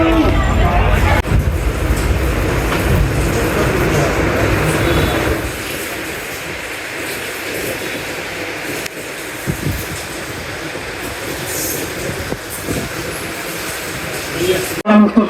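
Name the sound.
train at a station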